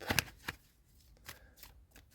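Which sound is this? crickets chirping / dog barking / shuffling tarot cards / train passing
shuffling tarot cards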